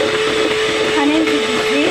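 An electric mixer whirs steadily and loudly at close range while beating cake batter, its motor pitch wavering slightly as it works through the mix.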